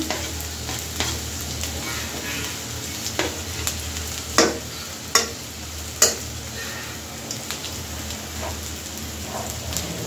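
Chopped onions frying in hot oil in a wok, a continuous close sizzle with scattered sharp spatula clicks and scrapes, a few louder strikes near the middle, and no speech.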